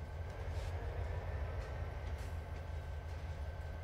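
Train in Train Simulator 2018 on the Colton & Northern line, departing as a faint, steady low rumble of engine and rolling wheels with a soft continuous hiss and no speech.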